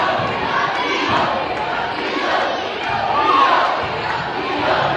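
Energetic crowd at a high school girls' basketball game in the Northland Classic roars steadily with cheering and shouting, a dense sustained wall of voices rising and falling, with occasional ball thumps underneath.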